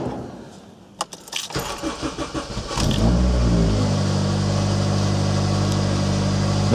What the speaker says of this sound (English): We'll see if the engine starts and doesn't hunt anymore.